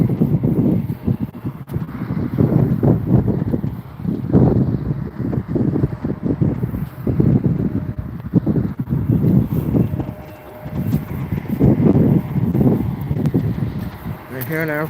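Gusty wind buffets the microphone outdoors at LAX airport, with loud low rumbling surges that rise and fall continuously, under intermittent talking by a man.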